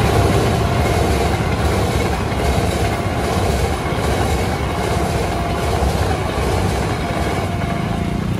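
Tawang Jaya Premium passenger train from Pasar Senen to Semarang Tawang passing the Brangsong level crossing in Kendal, Central Java, with a loud, steady close rumble and rhythmic wheel clatter sustained throughout.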